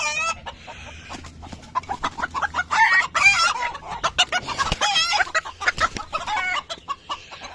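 Several hens cluck and cackle in busy, overlapping bursts, close by, with a rooster-like call rising among them, including a broody hen; no talking.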